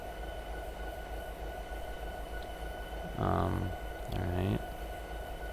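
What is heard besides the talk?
locomotive driving through a switch, Train Simulator 2022 video game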